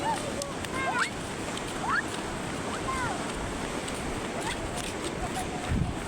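Big ocean waves roll in on a beach as a continuous loud wash of surf with wind rumble, while people shout and talk excitedly over it.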